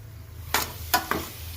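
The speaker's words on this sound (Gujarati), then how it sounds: "શાકમાં આપણે જે મસાલાની પેસ્ટને બનાવી નાખી દઈએ" Spice paste dropped into a pan of Gujarati green turmeric curry, giving a few short bursts of sizzling and stirring over a low steady background hum.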